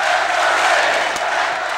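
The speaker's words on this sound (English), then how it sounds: "This is as loud as the crowd has been since this game started" Basketball arena crowd at an Indiana at Penn State game roars in a steady, loud, dense wash of cheering and shouting, with no gaps.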